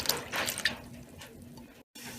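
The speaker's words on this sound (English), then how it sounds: "Now I'm going to add about 3/4 of a can, Coke can full of water." Water pours from a Coke can into a cooking pot of chicken feet with star anise, a steady splashing trickle close by, briefly cut off near the end and then resuming.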